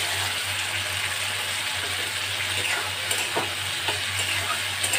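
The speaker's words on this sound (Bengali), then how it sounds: "একটু মশলাটা ভালো করে আমি কষিয়ে নিই।" Spice paste for pumpkin chokka being sautéed in a pan, a continuous dense sizzle with occasional stirring scrapes over a low steady hum, close up.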